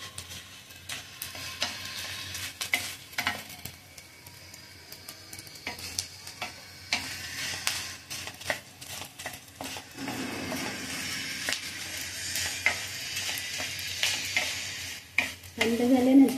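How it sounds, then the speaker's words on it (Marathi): Edible gum (dink) fries in hot ghee while being stirred constantly, making a faint crackling sizzle broken by frequent sharp scraping and ticking strokes of the spoon against the pan, close and intermittent. "आता तूप गरम झालं, त्याच्यामुळे डिंक चांगलं भाजला जातो. सारखं हलवत राहायचं"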